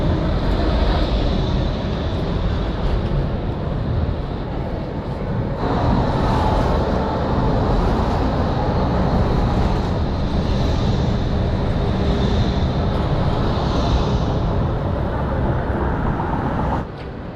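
Riding a tram back to Zagreb's old town after a football match at night: a steady, close rumble of the moving car, with a faint tonal whine above it and no talking.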